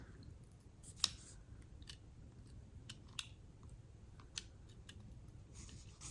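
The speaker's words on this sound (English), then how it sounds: "So I'm just gonna go ahead and cut it here so I don't waste." Scissors snipping through paper for a planner page, a few quiet crisp cuts and clicks at close range in a still room with no talking.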